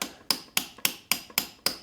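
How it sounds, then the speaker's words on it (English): Seven light, evenly spaced metal taps of a hammer driving an install punch, seating a bronze bushing on a 2019 KTM TPI XRC, sharp and close with a short ring after each strike, no talking. "using the install punch you can hammer it in, and hammer it lightly"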